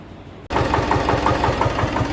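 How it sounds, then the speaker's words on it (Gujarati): A tractor engine in a field starts up abruptly and settles into a loud, steady rhythmic chugging idle, close by with regular pulsing beats. "હાલો આપણે ટ્રેક્ટર ચાલુ કર્યું છે ખેતરમાં"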